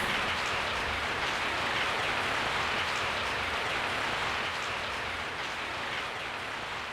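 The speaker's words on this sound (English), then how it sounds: "I woke up to the sound of falling rain." Steady, dense falling rain at night in the video game Resident Evil 3: Nemesis, a constant even hiss with no pauses or voices.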